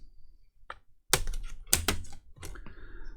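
Keyboard of a Dell Latitude E7450 laptop being pried off during repair, giving a few sharp clicks and plastic snaps, then a run of clattering knocks and rattles close up.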